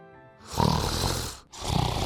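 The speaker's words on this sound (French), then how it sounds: "un loup gisait près de l'arbre et ronflait de sorte que les branches tremblaient" A wolf lying beside a tree snores loudly in a children's fairy tale, with two long, rough, rumbling breaths, the second following a brief pause.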